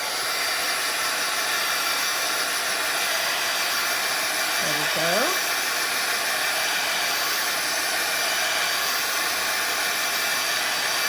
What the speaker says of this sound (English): let me just hit it with my handy dandy dryer here